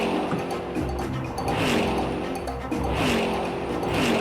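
A car engine revs and pulls as it is driven just after a gear change, its rising, wavering tones fairly loud and close, with brief voice sounds mixed in.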